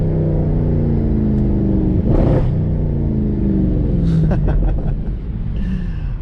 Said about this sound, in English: Listen to this downshift right here.